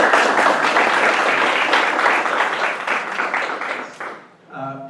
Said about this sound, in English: let's give Bud Gibson a warm round of applause